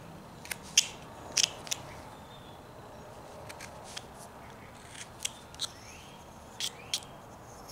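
Small knife cutting deep into basswood while carving a cardinal's wing, a few sharp crisp snips and scrapes at irregular intervals, close and fairly quiet over a soft background hiss.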